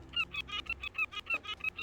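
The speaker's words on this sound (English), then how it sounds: "Oh, you can pat the seagull!" Seagull calls in a video game come as a rapid series of about ten shrill, honking cries in a steady rhythm, loud and close.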